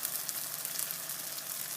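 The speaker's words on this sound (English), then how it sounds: "we're gonna fry off this whole batch" Salt fish fritters sizzle and spit in hot oil, a steady close frying hiss with crackling bursts throughout.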